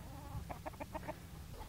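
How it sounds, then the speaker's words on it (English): Homestead chickens cluck in a quick run of short, soft calls, close by, over a steady outdoor background hum. "Come on, chickens."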